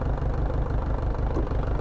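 A 2000 Mitsubishi Fuso truck engine runs at idle, a steady low rumble that stays close and constant throughout.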